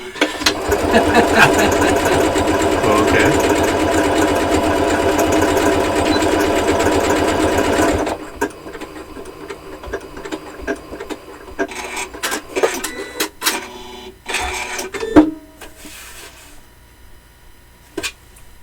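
A Janome Continental M7 sewing machine stitching a hand-look stitch, a busy steady mechanical whirring for about eight seconds, then it stops and scattered clicks and handling noises follow.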